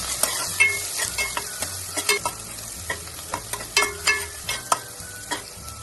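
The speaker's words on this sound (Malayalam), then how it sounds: "എണ്ണ ചൂടായതിനു ശേഷം ചെറിയുള്ളിയും വെളുത്തുള്ളിയും ചേർത്ത് കൊടുക്കാം" Shallots and garlic fry in hot coconut oil with a crackling sizzle, broken up by repeated scraping and tapping of a spoon against the pan in an uneven rhythm, close and fairly loud, with no voices.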